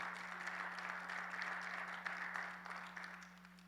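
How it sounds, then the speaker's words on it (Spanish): Congregation at a Bible seminary class applauding, a soft, distant, sustained patter of clapping over a steady electrical hum, fading slightly toward the end. "¿Cuánto le dan un fuerte aplauso al Señor, por favor?"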